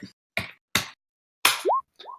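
Several short, sharp magical zaps of a smite spell in quick succession, ending with two rising whooshy tones, each burst separated by silence.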